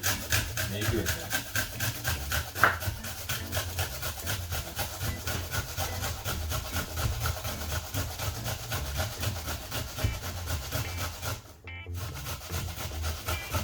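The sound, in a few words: grating an onion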